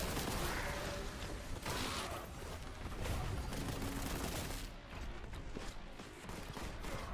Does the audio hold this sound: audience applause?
no